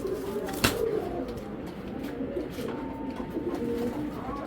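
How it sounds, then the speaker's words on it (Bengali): An old-breed pigeon cooing nearby in a loft, low soft coos running continuously with a brief sharp knock early on and no talking. "একদম পুরান জাতের একেবারে পুরান জাতের একটা বেজি কবুতর"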